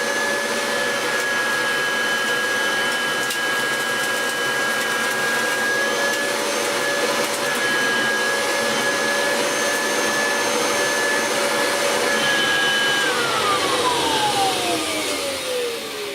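A Kirby Legend 2 vacuum cleaner runs with its upholstery tool attached, a loud, steady close-up motor roar with a high whine that holds for a long stretch, then drops in pitch near the end, with no talking.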